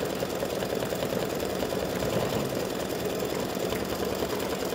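A free-standing-lace embroidery machine stitches a satin stitch around the corners of a star on a snowflake design, giving a steady, close mechanical whir and rapid needle chatter that runs evenly throughout with no talking.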